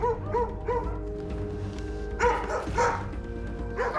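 A dog barks inside a house in Kryvyi Rih, muffled through the walls, with a few bursts of woofs separated by short pauses and a steady low background hum.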